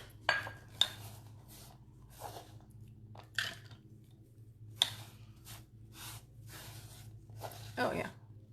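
Utensils and kitchenware clink and clatter in a home kitchen while baking grasshopper brownies, a few sharp knocks standing out over a low steady hum, with quiet background voices.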